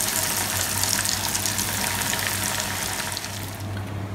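Chicken pieces deep-frying in hot oil for Chinatown-style crispy fried chicken: a dense, continuous bubbling hiss with a low hum beneath, loud and close, easing slightly near the end.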